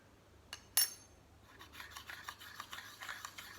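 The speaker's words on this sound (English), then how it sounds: "When you're using a sharpening stone, it just means that you'll be getting rid of any of the sharp burrs that might have appeared" A sharpening stone rubbed along the blade of Felco secateurs, with a couple of sharp clinks and then a run of short, rhythmic rasping strokes close by.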